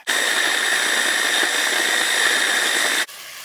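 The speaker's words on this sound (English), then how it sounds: "I'm gonna put the onion in the food processor" A food processor mincing onions, a loud, steady whirring motor running near for about three seconds before cutting off abruptly.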